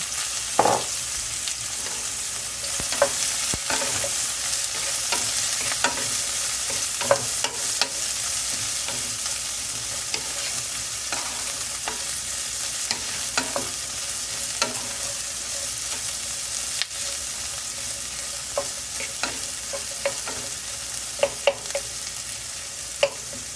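Bitter gourd (karela) frying in a little oil in a pan gives a continuous, even sizzle throughout, broken by occasional scrapes and stirring clicks, with no voices.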